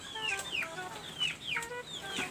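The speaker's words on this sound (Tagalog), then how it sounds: "ito talagang pinapakain ko sa aking mga manok, guys." Backyard chickens being fed cluck repeatedly with short rising calls, several in quick succession, fairly faint and close with no talk.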